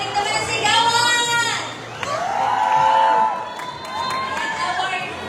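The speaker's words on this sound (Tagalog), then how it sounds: "Nalagyan na natin sila ng isang malakas na palakpak" A crowd at a tambourine and comedy skit competition roars with loud cheers, whoops and high shouts for a performing team, swelling in waves and staying dense and close throughout.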